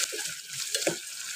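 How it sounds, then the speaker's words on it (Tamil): Sliced large onion and whole spices such as cloves sizzle in a hot pan for a chicken curry, a steady close frying hiss broken by a few soft scraping stirs. "ஒரு பெரிய வெங்காயத்தை நறுக்கி வச்சுருந்தேன், ஸோ அதையும் சேர்த்து லைட்டாக வதக்கி விட்டுக்கோங்க."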